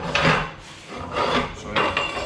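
Rhythmic rasping and rubbing of metal as a bent nose wheel fork for an experimental seaplane is worked out of a tube bender, three repeated close strokes.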